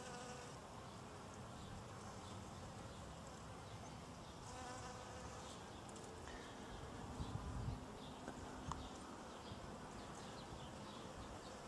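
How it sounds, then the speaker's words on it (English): Bees swarm around a backyard hive in a continuous buzzing hum, low and steady, with a few closer passes that grow slightly louder near the end. "More bees as we get closer."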